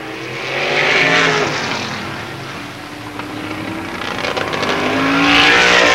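Race cars battle for position on the oval at Avilla Motor Speedway, engines rising and falling as they roar past in two loud sweeping passes with pitch shifts, a constant buzzing racing drone between them.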